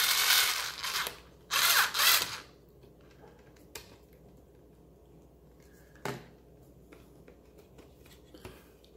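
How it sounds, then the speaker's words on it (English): Brief whirring bursts from a screwdriver working the small screws of an HP Stream 11.6-inch laptop come up close, then give way to quiet handling with a couple of sharp clicks and no talk. "you're going to get the Phillips screwdriver right here, and you're going to undo these little screws off right here"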